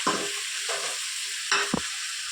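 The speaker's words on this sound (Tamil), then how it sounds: "3 தக்காளி கட் பண்ணி வச்சுருக்கேன். தக்காளியை சேர்த்துக்கலாம். தக்காளி நல்லா வதங்கட்டும்" Chopped tomatoes sauté in a hot pan, giving a steady, close sizzle broken by a few scraping stirs of a spoon.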